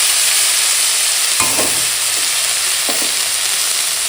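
Onions frying in a pan and being stirred, a loud steady sizzle close up with a couple of brief scraping strokes.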